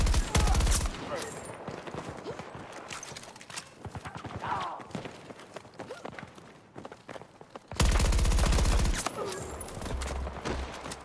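AEK rifle fired in a video game, rapid bursts of automatic gunfire with sharp repeated cracks. A loud burst opens, quieter firing and clatter follow, then another heavy burst comes, with a voice talking at times.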